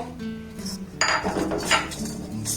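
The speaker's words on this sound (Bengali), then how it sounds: "এটা শুকনো খোলায় দিয়ে একটু নাড়াচাড়া করে ভেজে নেব" A spoon scrapes and clinks around a dry pan holding panch phoron, cumin and fennel seeds being roasted without oil, giving a few light metallic knocks and rattles, close and fairly soft.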